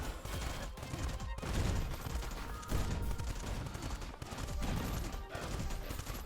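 Automated turrets in the video game Cinderia fire continuously in dense, rapid volleys, a steady crackling barrage with sharp bursts layered throughout and no pauses.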